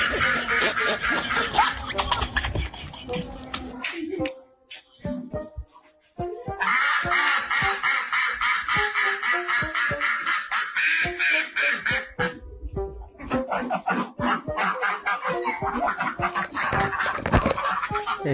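A small flock of domestic ducks quacks loudly and insistently at a house gate, with rapid overlapping calls, a brief lull near the middle, then more sustained quacking close by.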